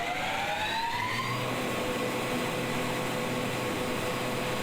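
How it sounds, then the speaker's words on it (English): Constant loud roar of a main mechanical mine ventilator on the surface at an underground coal colliery, exhausting return air. It is a dense, unvarying broadband rush with a faint tonal whine that drifts early on, and no talk. "a main mechanical ventilator is installed on the surface"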